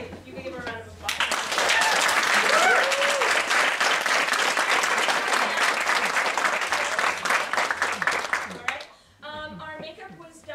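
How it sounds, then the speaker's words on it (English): An audience at a theatre show applauds the hair stylist in one long burst of steady clapping, with voices talking briefly before it starts and again after it ends. "You can give her a round of applause."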